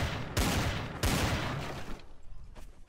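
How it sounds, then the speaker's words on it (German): Gunfire in the game Trouble in Terrorist Town comes as two sharp bursts of shots, each fading into a rattling tail, followed by quieter scattered pops, with no voices. "Egal wo ich hinkomme, ich höre Schüsse"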